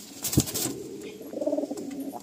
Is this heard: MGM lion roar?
no